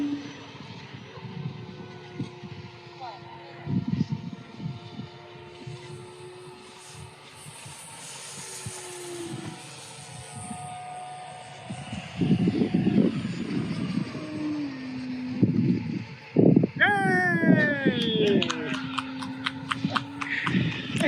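A P-26 Peashooter airplane comes in to land, passing from left to right. Its engine drone rises and falls with shifting pitch, mixed with wind hiss and rumbling bursts, growing louder and rougher toward the end.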